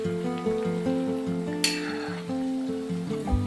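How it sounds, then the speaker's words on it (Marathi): Sorghum-flour and jaggery snacks fry in hot oil, a steady close sizzle with soft bubbling crackle throughout, a brief bright splash of spatter midway and a light clink near the end. "आणि दोन्ही बाजूने अशा गोल फिरवत खरपूस छान अशा तळून घ्यायच्या।"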